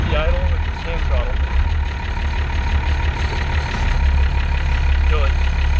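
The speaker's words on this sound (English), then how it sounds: "in neutral, push to start. And you can set the idle with the hand throttle" Engine of a steam-era vehicle with a Johnson bar, started in neutral and settled into a steady idle set by hand throttle, a low continuous rumble with a few brief squeaks on top.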